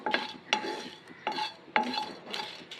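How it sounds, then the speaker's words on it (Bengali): Whole spices, dried red chillies, cumin, fennel and garam masala, fry and are stirred in a pan, giving a soft crackle in repeated bursts of scraping about every half second, close by with no talk. "মশলাটাকে ভেজে নেব।"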